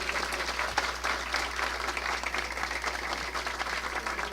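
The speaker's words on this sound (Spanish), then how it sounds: "A todos estos artistas, que son colegas de todos los que estamos hoy aquí, les vamos a dar un aplauso." A seated audience at a Dominican political forum breaks into a full, even round of clapping that sustains for over four seconds, backed by a steady low electrical hum.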